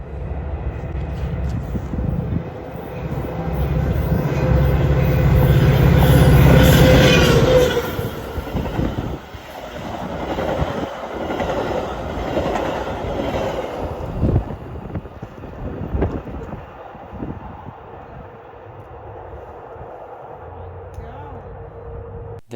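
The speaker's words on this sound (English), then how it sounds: "We see it flying through Central on Union Pacific North Line train 347, bound for Kenosha, Wisconsin." Union Pacific North Line train 347, bound for Kenosha, Wisconsin, rushes through Central station, a loud close roar and rattle of passing railcars that peaks early, then fades into lingering rumble with wind noise.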